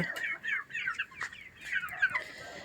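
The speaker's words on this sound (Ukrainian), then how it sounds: "І ось такі вже в мене курчатка" Young Kuchinsky and naked-neck chicks cluck and peep in quick, chattering bursts, close by, with no talking.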